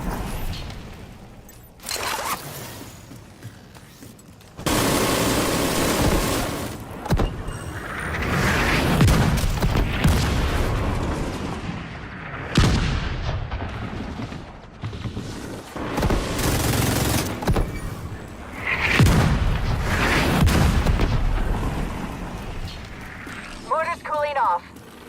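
Mortar fire in the shooter The Division 2 comes as repeated heavy booming bursts over about twenty-five seconds, separated by short lulls, with voices talking between and over the blasts.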